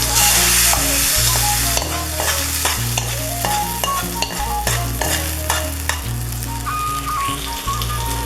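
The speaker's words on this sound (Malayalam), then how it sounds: "ഇനി നമുക്ക് വറവ് ചട്നിയിലേക്ക് ഒഴിച്ചു കൊടുക്കാം." Hot tempering poured into coconut chutney crackles and sizzles loudly up close, with a rhythm of heavy stirring thumps and clinks of the spoon against the pot and no talk.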